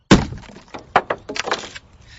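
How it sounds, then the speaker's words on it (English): Wood and glass crash and crack as a loom is smashed with sledgehammers, one heavy opening smash followed by several sharp, loud impacts and splintering debris, with no voices. "a group of weavers famously went to the building, broke into it, and smashed the loom with sledgehammers"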